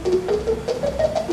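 A geared sound-making device driven by a single powered master gear meshing with a straight gear plays a short, rising sequence of distinct pitched notes in a steady rhythm, close and clear over a mechanical hum.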